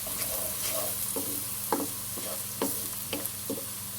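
Soft, steady sizzling of onion frying in a pan, with occasional clinks and scrapes of stirring, fairly quiet and with no talking.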